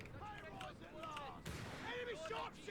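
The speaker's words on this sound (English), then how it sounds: "Let's barrage that sniper." Artillery barrage in Company of Heroes 3 aimed at a sniper on a hill, with dull distant thuds and a sharper burst midway, partly masked by faint chirpy game sounds and background ambience.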